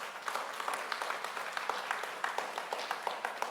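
Applause from an audience at an event on Baltimore hosting the CIAA Tournament, a steady wash of many hands clapping at moderate distance for a few seconds.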